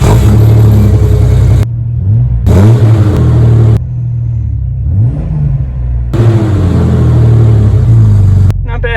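Jeep Cherokee XJ engine revving through a newly fitted muffler, loud close bursts of deep exhaust rumble rising and falling between idle pauses.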